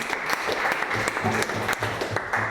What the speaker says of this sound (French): Très bien, on l'applaudit.